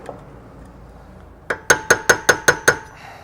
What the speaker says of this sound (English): And then to get it off, you just take a hammer, and hammer away.